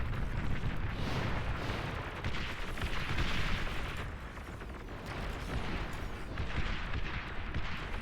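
Tank battle in the strategy game Beyond All Reason, with medium tanks engaging: dense, continuous cannon fire and rumbling explosions overlapping in waves, loud and close with no pauses.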